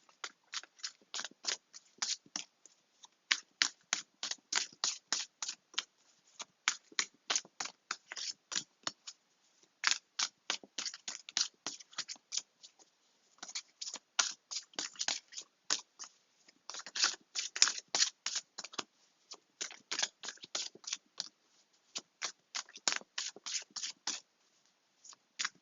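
Tarot cards being shuffled by hand in quick crisp riffling bursts, repeated steadily with brief pauses between runs, close and fairly quiet with no talking.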